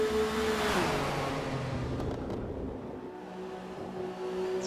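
A 1998 Porsche GT1 race car in Forza Motorsport drones along at speed with a steady loud engine roar, its pitch shifting slightly as it drives on, with no talk.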